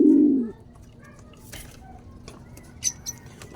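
Pigeons being fed, a short, loud close coo at the start followed by faint pecking, scratching and light rustling nearby.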